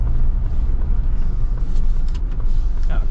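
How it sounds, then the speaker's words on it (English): A 2025 Ford Bronco Sasquatch on 35-inch tires produces a steady, loud low road roar of tire noise from inside the cabin while driving. "Do get quite a bit of tire noise, so that is one little downside with Broncos, with 35s."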